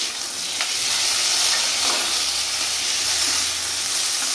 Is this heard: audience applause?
no